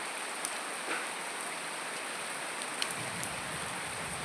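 Rain falls steadily onto standing water, a soft even hiss of drops with occasional brief pops and bubbling splashes, fairly faint and without voices.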